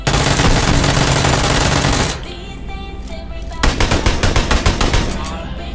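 Rapid automatic gunfire in a first-person shooter video game: a loud continuous burst, a short lull, then a fast rattling volley of distinct shots, with faint talk underneath.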